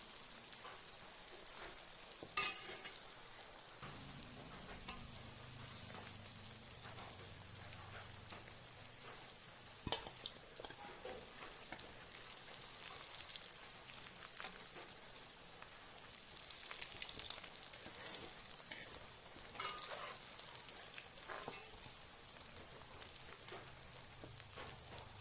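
Food frying in hot oil gives a steady, soft crackling sizzle that runs on without a break and stays fairly faint throughout, with no voices.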